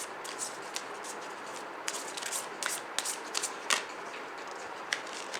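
Tarot cards sliding and rustling as a master card is drawn from the deck, a run of soft, quiet papery riffles and flicks with a few sharper snaps, close up and with no voice.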